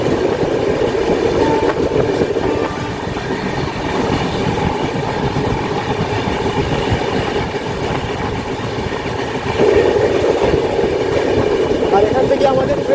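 The 12074 Janshatabdi Express runs through Panskura junction, a loud continuous rumble of wheels on rails with rhythmic clatter over joints, steady for the whole stretch and swelling slightly near the end.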